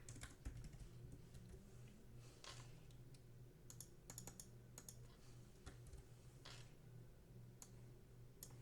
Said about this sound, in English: Oh, I could just type it out.